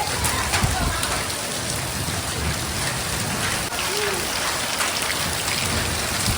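Steady, hissing downpour of rain and hail on clay roof tiles in a thunderstorm, an even, unbroken wash of impacts with faint low rumbling beneath.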